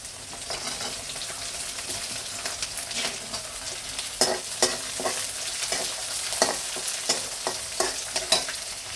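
Small shallots sizzle in hot oil in a pan while a spoon stirs them, giving a steady frying hiss broken by repeated scraping clatters, close and moderately quiet.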